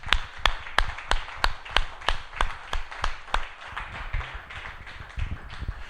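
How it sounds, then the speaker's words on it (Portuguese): Rhythmic hand clapping from a church congregation during a sermon, sharp claps in a steady beat that loosen into scattered, overlapping applause toward the end, fairly close and lively. "A ele uma salva de palmas, por favor."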